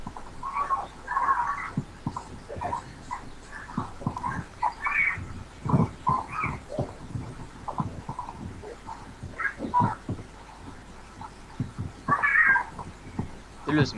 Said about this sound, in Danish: Det lyder som en kat, det der.